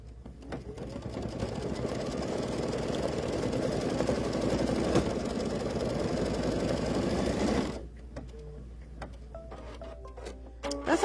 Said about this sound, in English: next we're going to stitch the inside of our pumpkin